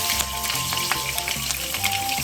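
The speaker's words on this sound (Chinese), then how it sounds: "小心倾斜锅子，让鱼可以均匀受到油炸" Salted sweetfish (ayu) pan-fry in hot oil over medium-low heat, a close, steady sizzle with crackling spits and pops scattered across the whole stretch, with no talking.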